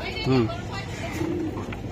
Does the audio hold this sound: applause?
no